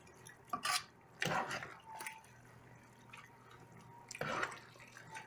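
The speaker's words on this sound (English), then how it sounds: "Drop the meat over there and I'm gonna stir it up." Meat and collard greens get stirred in a deep pan, giving a few soft metallic scrapes and wet sloshing clinks at close range, with quiet gaps between strokes.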